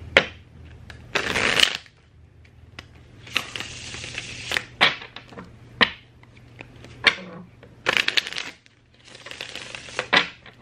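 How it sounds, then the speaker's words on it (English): A deck of tarot cards shuffled by hand in several short, crisp flurries separated by quiet pauses, heard close up and alone. "Give me one more card spin and I'll wrap up the reading"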